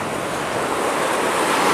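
Strong, torrential river current near The Dalles, Oregon surges and washes like ocean surf, a loud continuous roar with wind buffeting the microphone and no voices.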